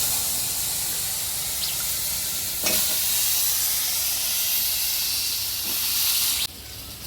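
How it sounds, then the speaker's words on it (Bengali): Potatoes fry in a wok with a steady, even sizzling hiss and a couple of faint clicks, then the sound drops off suddenly near the end. "এবার আলুগুলো ভাজা লই। দিতেছি কড়াইয়ের মধ্যে"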